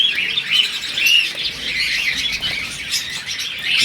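Lovebirds, including adult Fischer's and similar colour varieties, chirp continuously at a bird farm, a dense chorus of high tweets and calls filling the whole stretch with no talk.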